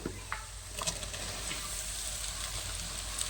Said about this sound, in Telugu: ఉల్లిపాయలు, పచ్చిమిరకాయలు, కరివేపాకు, అల్లం వెల్లుల్లి చక్కగా వేగిని ఇప్పుడు మనం ఆలు ముక్కలు పట్టేసుకుందాం